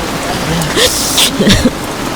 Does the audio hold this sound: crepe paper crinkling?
no